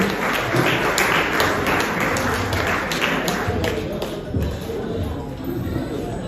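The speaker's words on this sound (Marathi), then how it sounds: "जोरदार टाळ्या त्यांच्यासाठी" Loud, dense applause fills a ceremony hall as an honoree is recognized at a national awards event, a continuous wash of many hands clapping with little variation throughout.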